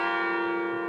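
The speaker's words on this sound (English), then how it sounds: "What you're hearing now are the bells out in front of the main cathedral in Liechtenstein." Church bells ring out in front of the main cathedral in Liechtenstein, one steady sustained chime with rich overtones and a long, even ring, loud and close with no voices.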